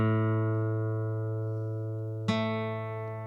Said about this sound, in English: here's an A above it. Again, that's a perfect octave